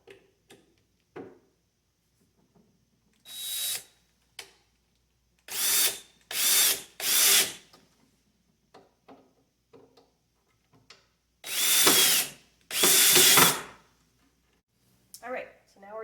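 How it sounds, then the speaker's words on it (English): A power drill drives screws to install cabinet and drawer hardware, running in about six short whirring bursts separated by quiet gaps and small handling clicks, with the motor close and loud. "Then we can put them on with our actual drill."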